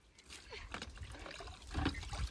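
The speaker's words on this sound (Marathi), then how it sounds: "कुठं ओततेस पाणी काय ग?" Water trickles and splashes as it is poured during bathing at a resort in Dapoli, a few uneven spills close by, with voices talking over it.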